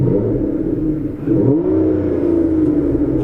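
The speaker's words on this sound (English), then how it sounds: "we are greeted by the wonderful 6-litre V12, which sounds absolutely incredible, even from inside the car" An Aston Martin Vanquish's 6-litre V12, heard from inside the car, revs up with a loud low growl that dips briefly then rises again into a rich rumbling climb, with no talk over it.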